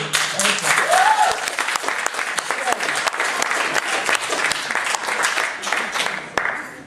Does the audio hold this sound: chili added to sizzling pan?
no